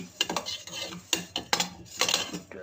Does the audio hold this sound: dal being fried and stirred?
yes